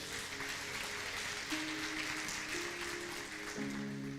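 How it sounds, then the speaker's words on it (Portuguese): A church congregation clapping in praise, a soft, steady wash of applause with sustained keyboard or organ tones beneath it. "Você pode aplaudir ao Senhor por isso?"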